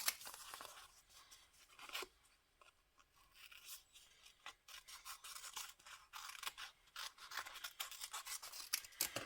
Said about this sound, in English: I'm going to take this down to here and cut around that blossom.